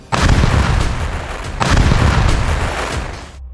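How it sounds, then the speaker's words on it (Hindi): Israeli air strikes on Hezbollah positions in southern Lebanon produce two loud, rumbling explosions in quick succession, each a heavy booming blast that rolls on before the next. "आईडीएफ ने दक्षिणी लेबनान में हिजबुल्ला के ठिकानों पर हवाई हमला करने का दावा किया है"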